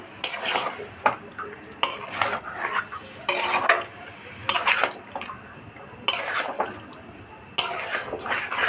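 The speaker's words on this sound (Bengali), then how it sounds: "তো এবার এটাকে ভালো করে নাড়ব।" Chicken curry is stirred in a pot with a metal spoon, giving repeated scraping and clinking strokes in bursts about every second or so over a soft background sizzle, close and fairly loud, with no voices.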